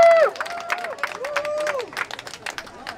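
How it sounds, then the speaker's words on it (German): A crowd at an open-mic gathering on a city square applauds and cheers for a speaker named Albert, with scattered claps, whistles and voices, fairly close and lively. "Ja, einen grossen Applaus für den Albert."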